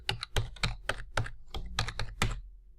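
Crisp, rapid keystrokes on a computer keyboard as a web address is typed, about a dozen close, clicky taps in quick uneven bursts with no voices.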